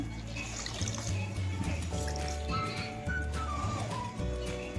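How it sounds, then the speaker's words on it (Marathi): A wet cotton cloth wrung out by hand in a home kitchen, letting water trickle and splatter back down; steady close dribbling under a thin whistling tone in the background. "पाण्यात भिजवायचं, थोडं पिळायचं."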